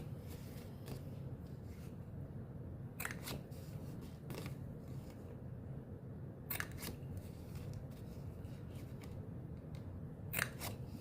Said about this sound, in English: I'm going to go ahead and round these corners